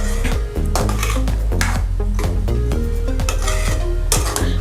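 A spoon stirs coconut paste into plantain curry in a pot, making close, repeated scraping and clinking strokes over a steady low hum.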